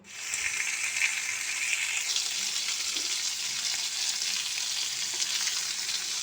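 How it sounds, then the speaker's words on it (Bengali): Rohu fish pieces fry in about four spoons of mustard oil, giving a loud, continuous close-up sizzle that stays dense and even throughout, with no talking. "দিয়ে আমি মাছের পিসগুলো ভেজে নেব।"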